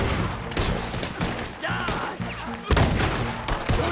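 Rifle gunfire in Red Dead Redemption 2 during a fight against the Army: repeated loud, close shots in quick succession, with a brief lull in the middle and a whistling sound, then more firing.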